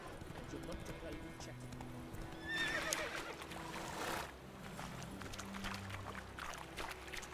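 A horse in the Witcher 3 game whinnies once at mid-clip, a short bright neigh, with soft clip-clop of hooves running underneath throughout, amid steady game ambience and low background talk.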